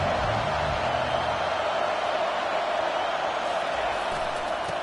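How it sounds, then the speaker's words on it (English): A stadium crowd in the College Football 25 video game during a third-down defensive stand, a broad continuous roar of cheering that stays loud and even for the whole stretch, without distinct voices. "Decibels rising as the crowd gets behind this defense on third down."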